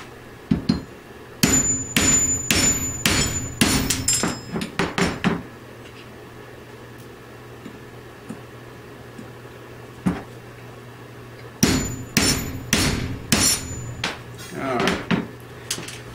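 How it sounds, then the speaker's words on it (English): A 3V steel knife blade chopping into a nail, two clusters of loud, sharp metallic strikes with ringing overtones, close up, separated by a quiet pause with one isolated knock between them. "and then if I chop the nail, I usually take two cuts"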